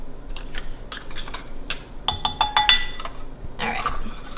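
A spoon clinks and scrapes against a bowl in quick bursts as applesauce goes in for raspberry jam cookies, close and fairly clear over a quiet kitchen background.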